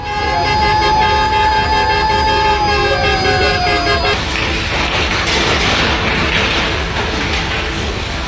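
A fire engine siren wails loudly over busy street noise as it arrives at a burning house in Jember, its rising and falling tone cutting off partway as engine rumble and commotion take over.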